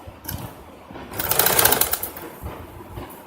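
A sewing machine stitches around a garment neckline reinforced with buckram interfacing, a brief whirring burst building in the middle and tapering off, close and fairly loud with no talking.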